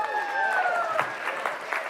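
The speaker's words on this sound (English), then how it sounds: "The Mormons are clapping extra hard" Audience at a stand-up comedy show claps and cheers in a brief burst, with a voice speaking over the applause.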